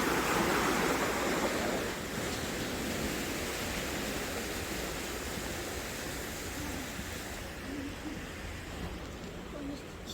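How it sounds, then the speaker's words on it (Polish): A river rushes continuously in Perast, Montenegro, a broad steady hiss, heard at moderate distance and gradually easing. "chyba rzeka płynie."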